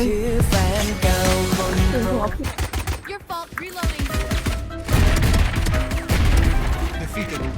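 Rapid gunfire from the Sheriff pistol in Valorant, sharp repeated shots in bursts with a few short pauses, loud and close, mixed with game sounds while a player talks over it.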